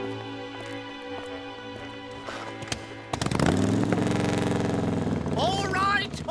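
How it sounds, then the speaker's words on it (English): A motorbike engine starts up in a cartoon, with a quieter stretch before the loud, continuous idling chug sets in and holds steady, overlaid with other cartoon sounds. "Just get that motorbike out of here"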